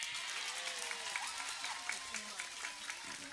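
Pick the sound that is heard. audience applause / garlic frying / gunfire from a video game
audience applause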